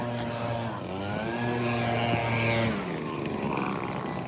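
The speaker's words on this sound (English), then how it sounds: "So we're not picking up so much noise from that leaf blower." A leaf blower running near a path at Disney's Boardwalk Resort, a loud droning engine whine with a shifting pitch that rises and then drops away as it passes close by.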